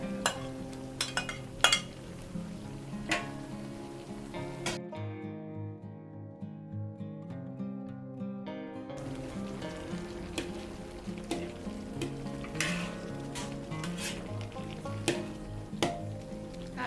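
Shrimp and fish balls fry and get stirred in a pan, a soft sizzle with clinks and scrapes of a utensil against metal, briefly interrupted while music plays in the background throughout.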